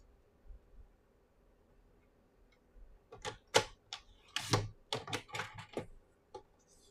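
A paper trimmer cuts paper for a bookbinding explosion card: a series of sharp, close ticks and scraping clicks arrives in an irregular run after a quiet pause, crisp and fairly faint.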